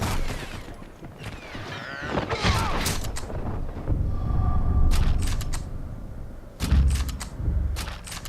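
Submachine gun fire in Sniper Elite 4 at Allagra Fortress, sharp rapid bursts of shots in clusters over game ambience and a rumbling backdrop, loud and close, with a voice talking over parts.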